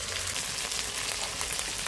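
Ginger and tomato hit a hot pan of fried onion and garlic on an old clay stove, giving a loud, dense, continuous sizzle up close with no talk.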